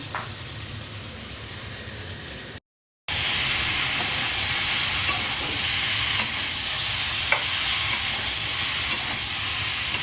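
Cauliflower and potato fry in a pan with a steady broadband sizzle and hiss, broken by a brief silent gap, then continuing with occasional faint ticks and spatters.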